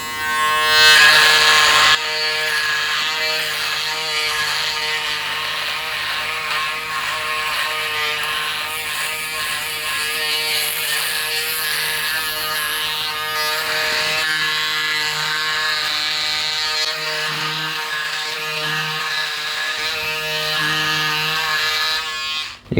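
A Braun Series 6 electric shaver buzzes steadily for over twenty seconds, a close, bright whirring hum whose pitch and texture shift slightly as it moves along the jaw and chin.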